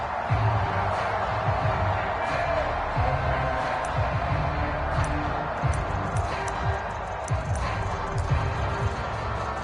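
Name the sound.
football stadium crowd cheering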